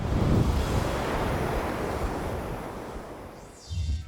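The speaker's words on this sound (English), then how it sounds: "Look at this beach, this water." Ocean surf rolls onto a Kiawah Island beach in a steady broadband wash, with wind buffeting the microphone and a fresh wave surging louder near the end.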